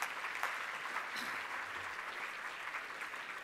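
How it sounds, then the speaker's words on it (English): An awards-ceremony audience claps steadily for the nominees, a dense, even wash of applause held at a constant level throughout with no voices on top. "can we give them all a round of applause before I announce the winner?"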